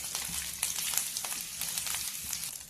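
Green chillies fry in oil for nalleru pachadi, giving a steady, close sizzle with fine popping crackles and no talking.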